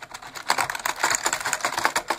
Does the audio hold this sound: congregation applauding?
no